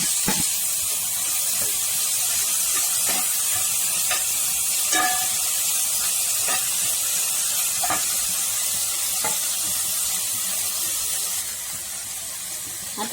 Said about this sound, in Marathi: कांदे मातशे परतून घेवन तातूंत टोमाट घालपाचे